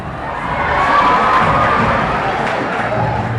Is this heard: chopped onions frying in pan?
no